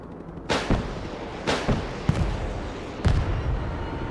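Anti-aircraft air defense guns firing in the Broken Arrow war game: four sharp, loud blasts spaced about a second apart, each with a booming tail over a steady battlefield rumble.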